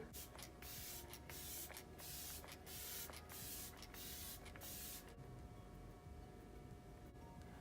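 Quick repeated hissing spritzes of a fine mist makeup setting spray, close and faint, in an uneven rhythm that stops partway through, leaving a low steady hum.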